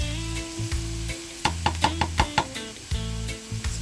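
Onion fries in a little oil for corned-beef hash, giving a low, steady sizzle broken by a quick run of light knocks and clinks from a utensil against the pan, close up.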